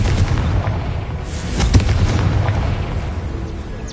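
Confringo spell in Hogwarts Legacy detonating: a loud booming explosion with a sharp burst near the middle, over a rumbling low roar that lingers and fades.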